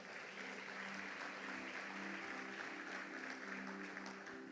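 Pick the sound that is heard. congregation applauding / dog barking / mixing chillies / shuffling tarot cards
congregation applauding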